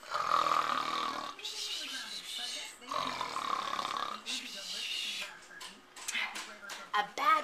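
A voice imitates a bear snoring while reading a children's story aloud, producing long, rumbling snore sounds repeated several times in a row, close and loud.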